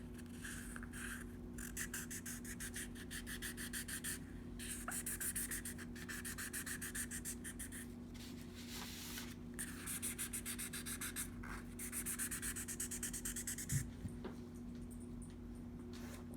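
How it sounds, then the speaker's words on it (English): A small power sander whirs with a steady low hum while a rapid gritty scratching comes and goes in pulses as it rubs over the surface of an egg. "So you just take your little sander"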